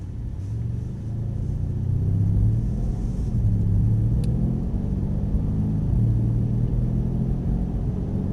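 A Mercedes-Benz car accelerates briskly up to about 50 on a test track, its engine producing a steady low rumble that swells slightly and holds for several seconds, close and loud with no talk.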